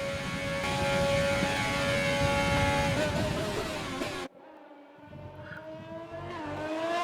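An F1 race car in the F1 2020 video game laps the dry Sochi Autodrom, its engine holding a loud, steady high-pitched whine for about four seconds before cutting abruptly to a much quieter, lower rumble.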